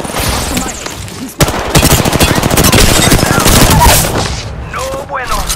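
Rapid automatic gunfire from the video game Apex Legends, loud and nearly continuous bursts with a brief pause, while a voice talks over the shooting.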